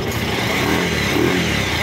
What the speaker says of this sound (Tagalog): Ngayon, tumahimik na yung motor ng sir.